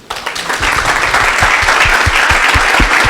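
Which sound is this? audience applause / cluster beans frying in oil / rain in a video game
audience applause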